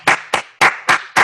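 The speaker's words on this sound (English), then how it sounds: "I give my own self my claps." A person claps their own hands five times in quick, slightly uneven succession, each sharp clap close and loud against silence.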